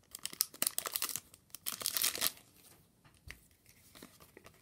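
A Pokémon Crimson Invasion booster pack is ripped open up close, giving bursts of tearing and crinkling foil over the first couple of seconds, then a few softer rustles and crinkles.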